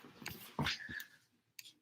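A puppy indoors giving soft, faint whimpers and snuffling breaths, a few short quiet vocal sounds close by with no talk.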